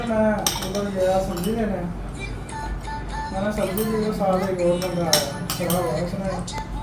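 Dishes and utensils clink and clatter during iftar meal preparation, frequent light metallic and ceramic knocks under continuous talking in a busy home setting.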